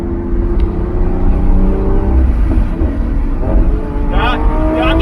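The V12 engine of a 2021 Lamborghini Aventador SVJ Roadster revving hard from the driver's seat, a loud rising and falling roar with a whining edge, and a man exclaiming over it near the end.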